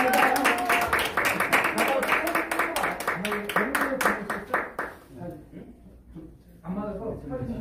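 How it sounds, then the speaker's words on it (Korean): Attendees at an association's annual general meeting in a hall at the Korea Press Center clap in brisk, regular rhythm for several seconds, then the clapping stops and a person speaks nearby. "한 박수 부탁드립니다"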